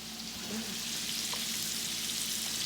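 Scallops pan-searing in butter, a steady close sizzle and crackle of frying that goes on without a break, with faint stirring underneath.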